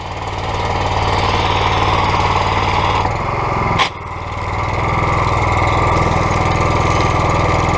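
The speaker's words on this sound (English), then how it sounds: "Let's treat some of this surface with just the hose here with the chemical." A gas pressure washer engine runs loud and steady while chemical is fed through the hose by a ball valve, its drone briefly dipping with a short sharp hiss partway through before settling back to full throttle.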